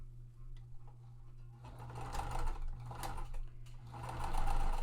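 A sewing machine stitches quilt pieces, starting with soft ticking and then running steadily and getting louder toward the end, with a low hum beneath it.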